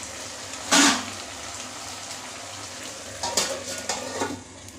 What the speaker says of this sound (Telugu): చికెన్ అయితే ఫ్రై అయింది